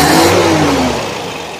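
Toyota Corolla DX carburetor engine revs loud and close, then the pitch falls away smoothly as the throttle eases off.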